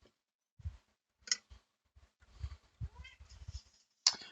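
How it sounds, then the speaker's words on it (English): A domestic cat gives a few short, scattered meows in a quiet indoor room, faint to moderate, mixed with small clicks and thin high squeaks, no talk. "Oh, now she wants to go outside."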